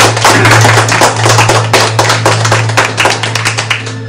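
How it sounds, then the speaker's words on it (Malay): Audience applauding Datuk Rahman, a Malay corporate figure, at a formal event: steady, dense clapping from many hands, loud and close, thinning toward the end, with a low constant hum underneath. "Kita berikan tepukan kepada Datuk Rahman."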